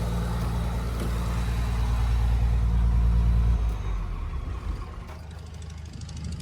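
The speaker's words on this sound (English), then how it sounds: "I might turn it off because that thing's making noise. The truck's kind of loud." A 1998 Chevy Silverado OBS dually with a swapped 12-valve Cummins diesel and five-speed idles loudly nearby, a deep steady rumble that drops off partway through as the engine is shut down.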